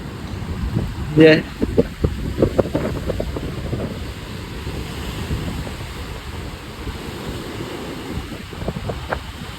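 Ocean waves surge and wash against rocks at Mirissa Secret Beach, Sri Lanka, in a steady, rumbling roar, with gusts of wind buffeting the microphone.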